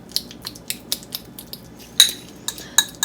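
Utensil scraping and clinking against a bowl while avocado is mashed and mixed for a smooth dip, a series of short sharp taps and scrapes, close by.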